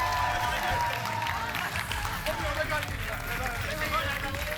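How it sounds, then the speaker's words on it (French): An audience at an improv match applauds both teams, a dense crowd clapping under a talking voice, moderately loud and steady throughout. "Une bonne main d'applaudissement pour les deux équipes"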